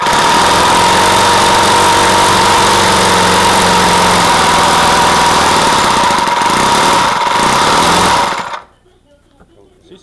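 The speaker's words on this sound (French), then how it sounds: "Mais ça reste un moteur 4 temps." A small homemade four-stroke engine, running on petrol with a little oil mixed in, drones steadily and loudly at close range, its buzzing hum holding for about eight seconds before cutting off abruptly into near silence.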